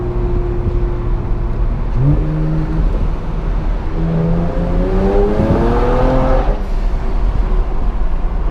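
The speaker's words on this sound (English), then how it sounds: "right now I'm manually shifting down even though it's in D." A car with a dual-clutch transmission is manually downshifted while in drive, with engine revs stepping up in several distinct rising jumps over a steady road rumble, heard from inside the cabin.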